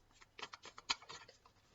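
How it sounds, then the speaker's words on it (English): Tarot cards being shuffled by hand, a quick run of soft papery flicks and riffles with one sharper snap near the middle, close and quiet, lasting under two seconds. "we're going to shuffle now and carry on, just get some more cards out"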